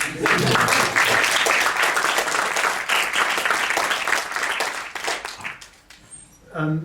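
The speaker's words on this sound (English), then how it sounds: "I think it's worth a round of applause." Audience applause at a film Q&A in a London cinema venue, a dense sustained burst of many hands clapping that thins and fades near the end, with a brief voice or noise after.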